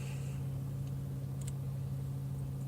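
A car engine hums quietly at a steady low pitch while driving, with a constant faint drone and a couple of tiny clicks, no talk.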